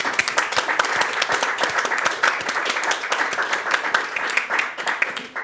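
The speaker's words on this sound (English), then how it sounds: "Big hand of applause for Charles for organizing this" An audience at a doctors' association president-elect debate claps warmly, with rapid, dense clapping that stays loud and even for over five seconds, no voices over it.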